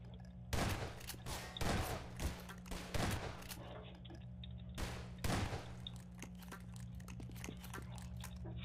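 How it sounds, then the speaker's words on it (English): Shotgun blasts in the video game Bionic Coyote Simulator, several heavy booming shots spaced about a second apart over a constant low game hum, fairly loud and without talking. "Good thing I have a long-range shotgun."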